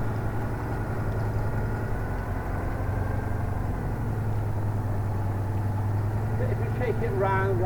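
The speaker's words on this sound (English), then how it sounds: "I don't like hearing engine revving up like crazy." An old Citroen 2CV6 engine idles with a steady, rough low rumble close by, constant throughout, with a brief higher whine creeping in near the end.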